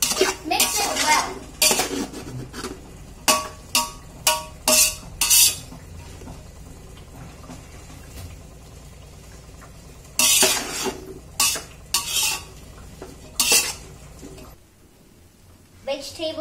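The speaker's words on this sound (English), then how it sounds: "Mix it well." A metal spoon stirs vegetables with turmeric and chili powder in a pot, giving repeated loud clanking scrapes against the sides in bursts with pauses, close up, while a person speaks in the background.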